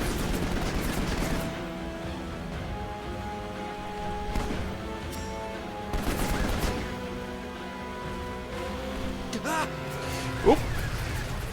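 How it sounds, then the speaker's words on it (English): Vehicle-mounted SMG fire in Final Fantasy XV, heard as scattered bursts and sharp cracks over steady game music and engine drone, with a voice talking at times. "Oh, right, you have an SMG on the vehicle."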